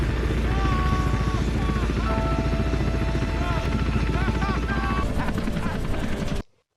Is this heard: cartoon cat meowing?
no